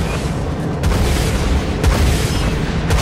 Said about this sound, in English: Vulture missiles locked on. Activated.